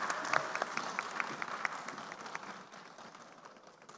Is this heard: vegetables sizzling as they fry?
no